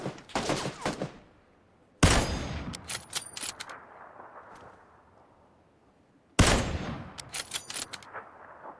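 Kar98 bolt-action rifle fire in the shooter game PUBG: three sharp, loud gunshot cracks spaced a few seconds apart, each followed by ringing, clattering echoes that slowly decay, with no talk.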